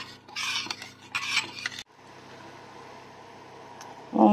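Spoon scraping and clinking against a saucepan while stirring water and brown sugar as they heat for a passion fruit syrup, close and intermittent in short bursts, then a quieter steady simmering hiss.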